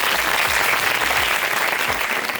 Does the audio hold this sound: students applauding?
yes